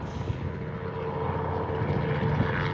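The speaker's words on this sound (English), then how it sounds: "I think it's a Robinson 44. They're kind of the little workhorse helicopters of Alaska." A Robinson 44 helicopter flies overhead in Alaska, a steady, moderately loud rotor-and-engine drone that swells slightly as it passes, with no talking.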